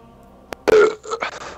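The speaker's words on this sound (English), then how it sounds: "Shout out my burp right there." A single loud, close burp rumbles out after a short click, lasting under a second and trailing off into a few rough throaty bursts, with no talk over it.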